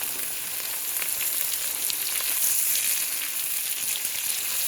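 Sliced bell pepper and carrot fry in oil in a pan, giving a steady, close, bright sizzle with faint crackles and no voices throughout.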